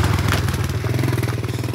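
A small scooter ridden by a young boy on a village road in Vietnam passes close by, its engine putting out a loud, steady, buzzing putter with a slight clatter.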